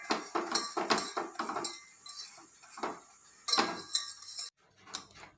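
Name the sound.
whisking butter in a pot over a flame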